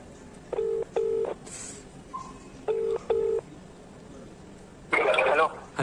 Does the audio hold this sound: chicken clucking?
no